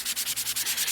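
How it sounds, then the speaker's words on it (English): Rapid back-and-forth sanding of wooden stair risers before staining, a quick rhythmic rasp of about eight even strokes, close and alone. "I like to do a little sanding before I stain"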